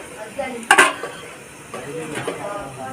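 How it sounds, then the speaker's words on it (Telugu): A plate used as a lid is lifted off a cooking pan, a brief sharp clatter of the plate against the pan rim followed by quieter light rattles. "ఇప్పుడు ప్లేట్ తీస్తున్నాను. మూత చూడండి."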